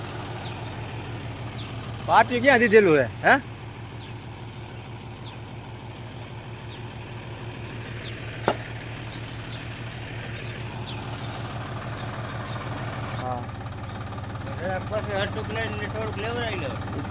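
A farm tractor idles close by with a steady low engine throb throughout, overlaid by a burst of clattering early on, a sharp knock, and people talking over it.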